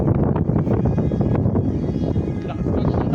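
A Volantex RC glider's electric motor drones steadily outdoors with wind buffeting the microphone, its pitch shifting slightly as the throttle is eased, while people talk nearby.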